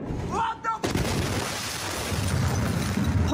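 News footage of the huge explosion at the port of Beirut: a short burst of sound, then a sudden loud blast that turns into a heavy, sustained rumble.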